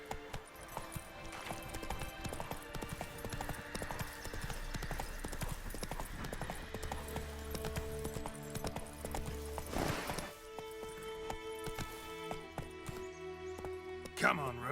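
Hooves of Roach, the horse in The Witcher 3, clatter in a fast galloping clip-clop under game music and effects, with brief talk mixed in.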